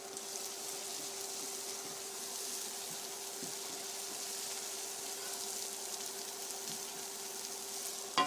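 Coriander and spices for a Kerala shrimp curry frying in a pan, a steady soft sizzle with a faint hum and a few light stirring scrapes throughout, ending in a sharp clack.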